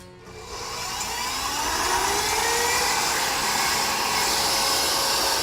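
An electric hand mixer whips egg whites for waffle batter. Its steady high-pitched motor whir spins up and then holds a continuous, loud buzzing drone with a slight pitch waver, heard alone close by.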